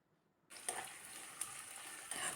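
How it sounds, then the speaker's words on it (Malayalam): Sliced onions, slit green chilies and curry leaves hit a hot pan and burst into a loud, steady sizzle after a brief quiet start, with a few sharper crackles as they are stirred. "ഇനി ഇതെല്ലാം ഒന്ന് വഴറ്റിയെടുക്കാം."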